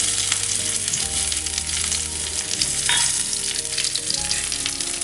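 Curry leaves sizzling in hot coconut oil on a low flame for a Kerala Onam sadya koottu curry, a steady close sizzle and crackle with scraping stirs, heard alone.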